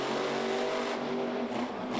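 Monster truck Maximum Destruction, driven by Tom Meents with a new transmission, pulls away in first gear at a freestyle event in M&T Bank Stadium, Baltimore, its engine roaring loudly and continuously as it accelerates over crowd and arena noise.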